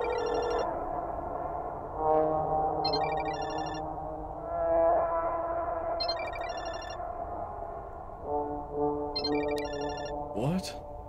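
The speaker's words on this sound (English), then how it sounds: "Asuka's ringtone." A phone ringtone sounds in the horror video game Parasocial: short electronic ringing bursts repeat several times at a steady interval over a low ambient drone, with a person talking in between.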